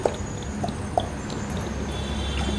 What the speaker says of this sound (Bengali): এই 3-4 চামচ মতো সাদা তেল দিয়ে নিলাম